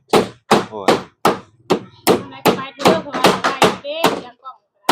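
Pounding with a hand tool during craft work: about a dozen sharp, heavy strikes land in a fairly steady rhythm, close and loud, with short pauses between blows.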